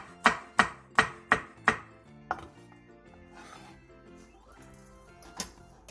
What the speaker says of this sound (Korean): 청양고추 2개, 청양홍고추 2개를 어슷썰게 해주세요.